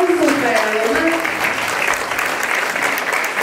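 Loud, close crowd applause breaks out for the mother at a quinceañera party, dense clapping that continues throughout, with a voice speaking over the opening moments.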